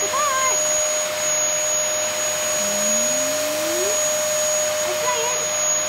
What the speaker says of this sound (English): We need to crack on with the hoovering.